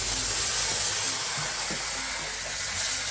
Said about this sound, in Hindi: कुकर फटने को हो गया था भाई